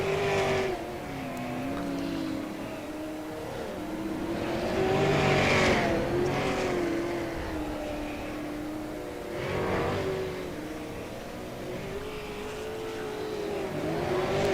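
Asphalt late model race cars lapping a dirt track in the closing laps, engines droning and rising as cars sweep past, with several swells of louder revving as the pack comes by.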